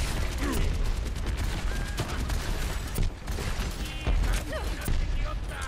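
Steady volleys of gunfire pound against a shield barrier in an Overwatch match, sharp rapid shots layered over clanking mechanical game noise and background chatter.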